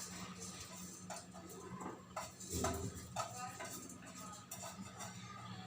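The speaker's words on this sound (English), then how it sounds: "I'm just adding this rice into this cooker." Rice is tipped into a pressure cooker, producing scattered clinks, taps and rattles against metal at moderate loudness, with a voice faintly present in the background.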